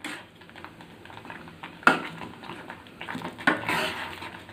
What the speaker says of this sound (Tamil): இதை நல்லா கிளறி விட்டுறலாம்.